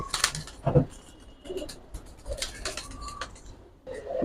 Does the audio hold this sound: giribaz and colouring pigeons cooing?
yes